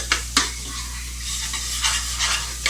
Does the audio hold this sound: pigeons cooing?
no